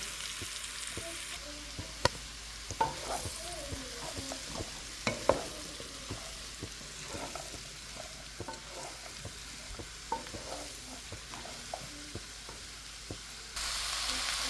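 Chopped bottle gourd frying with turmeric in a pan, a steady sizzle broken by repeated sharp scrapes and clinks of a spatula stirring, close and moderately loud, with no voices.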